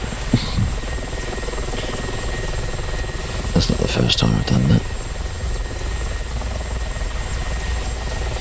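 A helicopter engine running in a flight simulator game, a steady whirring drone throughout, with someone talking briefly over it partway through.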